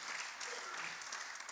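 At an Alfa Romeo F1 car launch, an audience claps in a dense, steady patter throughout the short moment, fairly faint and heard from a distance.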